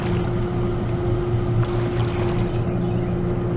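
A barge on the Ohio River passes close by, its engine a steady, loud, low droning hum with a constant tonal whine and no pauses or voices.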